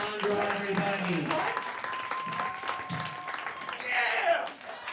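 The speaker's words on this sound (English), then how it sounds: "Clap it up for Alejandro, everybody." Audience clapping at a live comedy elimination show, moderate scattered applause under a host talking loudly over it, with cheers rising near the end.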